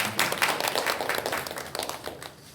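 Applause from a church congregation during a Korean worship service, a dense crackle of many hands clapping steadily for a couple of seconds before thinning out toward the end.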